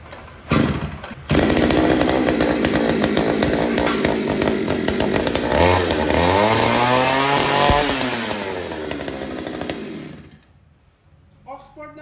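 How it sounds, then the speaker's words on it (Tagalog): An Oxford chainsaw with a 22-inch bar starts with a pull, then runs loud and steady for several seconds, revving up and down before cutting off; a voice talks over it briefly. "Oxford na chainsaw, Boss Glenn Grapil ng Davao del Norte, chainsaw 22 inches."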